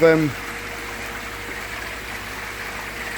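A small cascade waterfall in a fish shop's koi display gives a steady, soft trickle and splash that runs continuously at close range after a brief opening sound.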